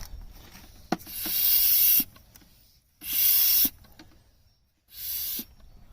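Oil hand-pumped during a Land Rover oil change, three long hissing pump strokes separated by short pauses, close and fairly loud.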